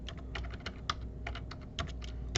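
Brisk typing on a computer keyboard, a quick run of close, light key clicks in an irregular rhythm with no voices.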